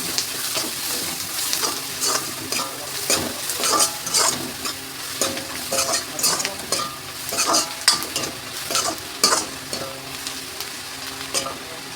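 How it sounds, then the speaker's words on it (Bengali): Rice seasoned with salt and turmeric fries in a pan while a utensil stirs it, with repeated scraping strokes over a continuous sizzle, close and fairly loud. "এবার একটু নেড়ে ছেড়ে দেবো"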